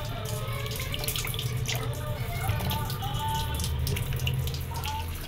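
Cut hilsa fish is washed under a running kitchen tap, a steady close splash and trickle of water continuing throughout.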